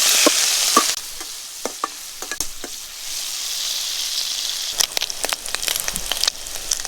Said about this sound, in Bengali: এখন আমাদের তেলটা হিট হয়ে গেছে, এখন আমি চিংড়িটা ভেজে নেব।